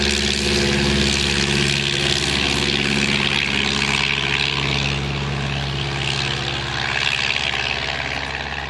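Stampe SV4C, a French-designed training biplane built in Belgium, droning loudly during its takeoff run, with a steady, close propeller and engine roar that holds constant and never fades.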